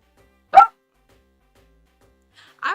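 A small puppy gives two short, sharp barks, one early and one near the end, close and loud with silence between them.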